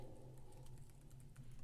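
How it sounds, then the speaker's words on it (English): Faint, quick clicking of keys being typed, soft and irregular over a low steady hum. "Excuse the typing noise."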